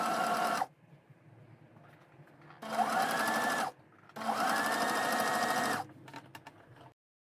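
A sewing machine stitches a simple single-stitch seam on a jumpsuit being made into trousers, running in three loud, steady whirring bursts separated by short pauses, the last burst the longest.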